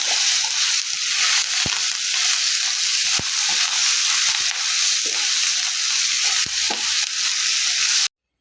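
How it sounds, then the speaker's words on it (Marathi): Green chillies and coriander roasting in a pan, a loud, even hiss of sizzling with a few sharp stirring taps, ending abruptly. "चार मिरच्या हिरव्या घेतलेल्या आहेत आणि थोडीशी कोथिंबीर हे सर्व भाजून घेते"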